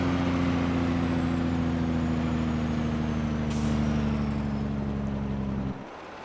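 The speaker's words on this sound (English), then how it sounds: "I do want to hear what that Jake brake sounds like" A truck's Jake brake in Farming Simulator 22 gives a loud, steady low rumbling drone with a buzzing engine tone that holds for several seconds, then drops off abruptly near the end.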